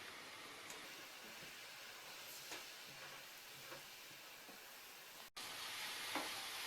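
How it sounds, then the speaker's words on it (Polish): Red wine coming to a boil in a frying pan after cooking duck with cranberries, giving a steady soft sizzle and bubbling hiss throughout with a few small pops, a brief dropout near the end, no talking. "Wino właśnie zaczyna się gotować."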